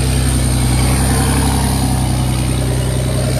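A motorcycle engine idles steadily and close, with a continuous low rumble and no change in pace while the bike is nudged a short way forward.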